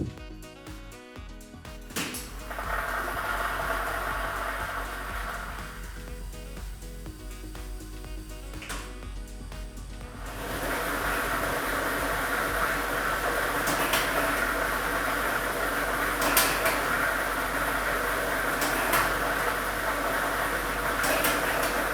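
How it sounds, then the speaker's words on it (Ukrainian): A lottery drawing machine with a numbered ball set running at a state lottery draw: a continuous mechanical whir and rattle of tumbling balls that grows louder and denser partway through, with no voices. "І ми вмикаємо лототрон."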